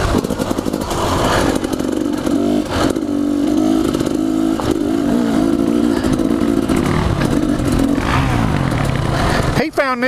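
A 2015 KTM 250XC two-stroke dirt bike engine runs close by with a raspy, buzzing idle and small throttle blips, loud and continuous throughout, ending with a brief clatter.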